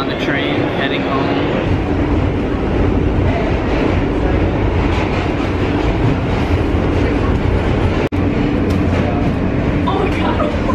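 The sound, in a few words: train ride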